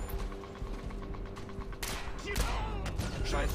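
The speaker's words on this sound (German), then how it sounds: "schießen, knallen ihn ab!" Gunfire from the co-op video game Splinter Cell Blacklist comes as a few sharp, snapping bursts over mechanical clicking and rattling, with the sounds growing louder toward the end.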